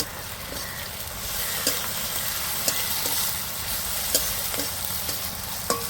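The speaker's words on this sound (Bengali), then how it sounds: "এবার দিয়ে দেব আদা বাটা রসুন বাটা আদা রসুন দিয়ে কিছুক্ষণ নেড়ে নেব" Ginger and garlic paste fry with browned onions in a pan, a steady close sizzle broken by regular sharp scrapes and taps of a spatula being stirred about every second.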